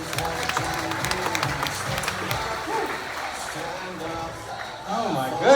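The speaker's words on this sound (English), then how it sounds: "One more big round of applause for Rita." Crowd at a magic show aboard the Carnival Spirit clapping again for Rita, a sustained moderate wash of applause under a talking host, swelling slightly near the end.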